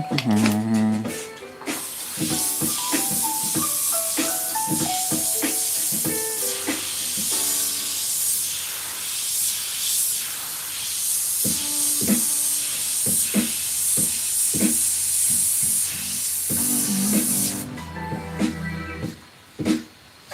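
An airbrush spraying paint fed by an air compressor, a continuous bright hiss running under scattered musical tones and talk, fairly close and steady before cutting off near the end.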